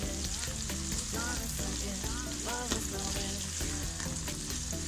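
Onions sautéing on a low flame for seeraga samba quail biryani produce a soft, continuous sizzle, with melodic background music playing over it.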